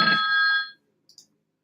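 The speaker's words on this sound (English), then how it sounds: "let me take this phone call" A phone rings once with an incoming call, a short bright electronic tone lasting under a second, followed by near silence and two faint tiny blips.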